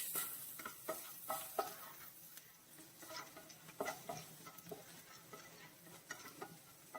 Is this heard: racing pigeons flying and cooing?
no